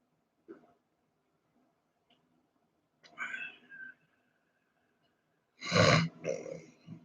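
A person burps, a short guttural belch near the end following a few quieter throat and breath sounds, close and alone in an otherwise quiet room.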